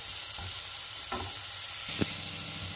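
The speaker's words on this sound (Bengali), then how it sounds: "তো মশলাটাকে একটু ভালো করে কষিয়ে নেব।" Masala spice paste sautéing in a pan for soya kofta curry, with a steady low sizzle broken by a few sharp spoon scrapes and clacks as it is stirred, the loudest knock near the end.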